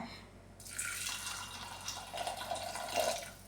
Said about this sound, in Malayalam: ആവശ്യത്തിനുള്ള വെള്ളം ഒഴിച്ചു കൊടുക്കുകയാണ്